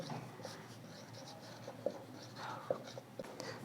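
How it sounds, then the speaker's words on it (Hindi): Someone writes a math question on a board, making soft, faint scratching strokes with a few light taps, quiet under low room noise. "तो पहला क्वेश्चन लिखते हैं हम"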